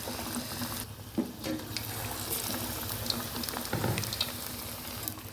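Raw banana slices dropped into hot oil for bajji, giving a steady broadband frying crackle with a few brief louder bursts of sizzle, close by and continuous.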